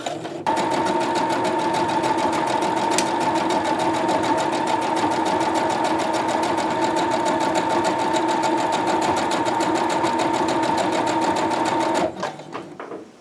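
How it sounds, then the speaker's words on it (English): Sewing machine running steadily while zigzag stitching joined coils of fabric-wrapped cord for a bowl base, a loud, even mechanical whir with rapid needle rhythm for about twelve seconds before it stops. "I try to keep that in the middle so that I make sure the zigzag goes back and forth"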